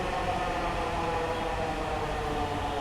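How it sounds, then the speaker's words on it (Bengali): A night metro rail train arrives, a steady, loud rushing roar close by that neither builds nor fades over the short span. "কিছুক্ষণের মধ্যেই ওই ট্রেনটাও চলে আসে"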